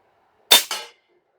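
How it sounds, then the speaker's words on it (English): A single shot from an AirForce Condor/Talon PCP air rifle fitted with a Huben regulator, fired downrange: one sharp, loud crack with a brief trailing whoosh, alone against silence. "I'll send a couple downrange for you guys just to see what we get."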